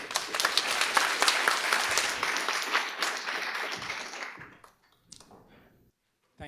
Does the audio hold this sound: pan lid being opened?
no